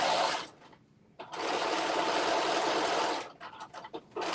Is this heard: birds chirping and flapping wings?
no